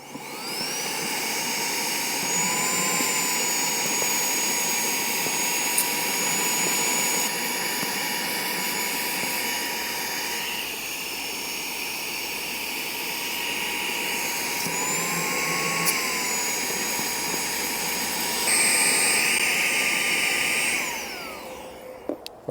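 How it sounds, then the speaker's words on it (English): A vacuum sucks small hive beetles out of a winter beehive, a loud, steady whine with a high tone that rises and shifts in pitch, alone, then cuts off at the end. "I'm going to go ahead and vacuum a few of these up."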